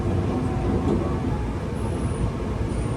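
Nankai Gran Tenku tourist train pulling out of Hashimoto station, a steady broadband rumble of wheels and running gear heard from on board, continuous and fairly loud throughout.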